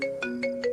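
A phone ringtone plays during an unanswered call, sounding as a clear, steady repeating electronic tone pattern that pulses about every fifth of a second, close and alone without talk.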